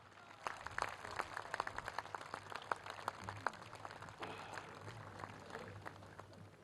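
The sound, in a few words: audience applause at ceremony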